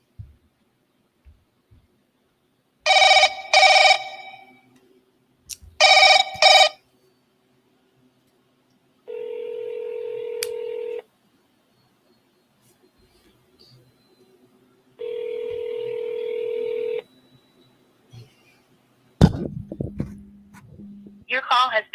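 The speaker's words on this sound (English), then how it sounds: "let's give this new lead another call" Telephone ringing during an outbound call to a home-seller lead: a couple of short tone bursts, then two long electronic ring tones separated by silence, close and clear, ending with a brief noisy click.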